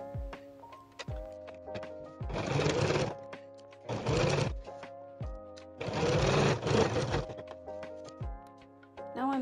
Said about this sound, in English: now I'm sewing it together and closing the 2-inch opening